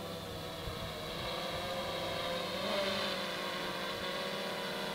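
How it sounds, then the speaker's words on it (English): Steady broadband wind buffets a microphone outdoors, a constant roaring rumble with a slight swell in strength midway, no voices over it. "Oh, the wind."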